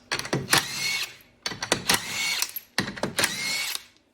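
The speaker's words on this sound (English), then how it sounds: "Reinstall the little rubber plug and remove the lug nuts." A power tool spins off the wheel lug nuts on a 2010-2015 Lexus RX350 in three close, loud bursts of whirring and rattling, each about a second long, with brief pauses between.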